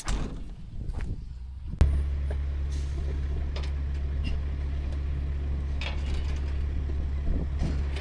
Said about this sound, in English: While we're stopped and I have the time, I'm gonna blow this truck out.